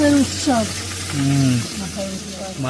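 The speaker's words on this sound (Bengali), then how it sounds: "ভাজি চলছে" Fish fries in a pan outdoors with a continuous sizzling hiss, while people talk loudly over it throughout and the frying stays underneath their voices.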